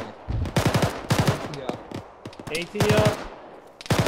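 Machine gun fire in an ArmA video game firefight, several sharp rapid bursts in quick succession, close and loud, with radio-style voices talking between bursts.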